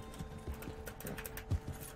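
A horse in a video game clip-clops along with a steady, rapid rhythm of hoofbeats over low background game noise; no one talks.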